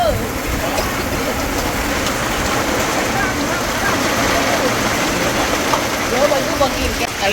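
Rain falls outdoors while goat larb is being prepared in a rural Lao setting, a steady dense hiss throughout with a person talking over it.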